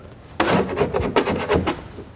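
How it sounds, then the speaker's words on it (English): Wallpaper is peeled off drywall in a series of close, tearing, ripping pulls, loud and uneven, coming in quick bursts after a brief quiet start, without talk. "I'm going to basically just get an edge and I'm going to pull that off"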